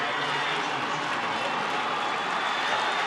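Eagles fans at a 1998 Class D high school football final cheer a fourth-down call in a steady, dense roar of applause and crowd noise that stays loud throughout.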